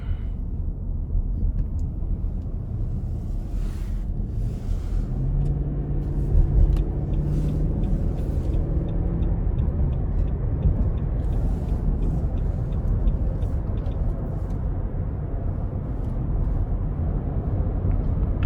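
A 2021 Nissan Armada Platinum SUV on 22-inch wheels cruises along an interstate, heard from inside as a steady low road rumble and tyre drone with faint passing whooshes.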